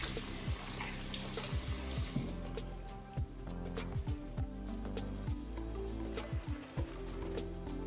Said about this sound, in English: But we're gonna keep adding a little bit of water here.